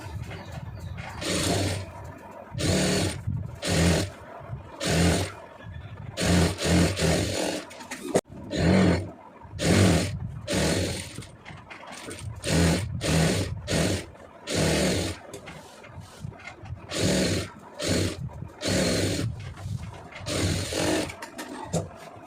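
A sewing machine stitches a folded boat neck seam in repeated short, loud runs with brief pauses between them, close by and busy throughout.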